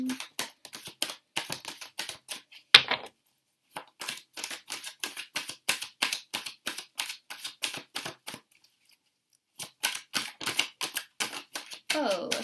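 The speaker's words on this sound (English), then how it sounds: "let's get shuffling" Rapid, crisp riffling clicks of tarot cards being shuffled in repeated bursts with brief pauses between, close up.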